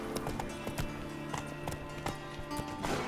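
Roach the horse gallops in Witcher 3, its clip-clop hoofbeats running steady and close through a rhythmic stride over the game's ambient music bed.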